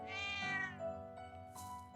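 A cat in the video game Trails of Cold Steel II gives a drawn-out meow followed by a shorter second mew, clear and close with faint game background.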